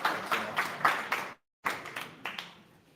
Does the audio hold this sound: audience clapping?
yes